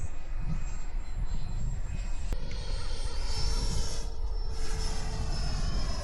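A model jet aircraft, a Raptor or Air Cobra, flies on an overcast morning, its engine a steady rushing whine that holds throughout at moderate distance.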